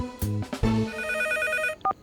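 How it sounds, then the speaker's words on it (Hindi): An old-style telephone bell rings late at night in a Hindi cartoon, two short loud rings with a clipped tone at the end, heard alone without any voices. "इतनी रात को कौन फोन कर रहा है मुझे?"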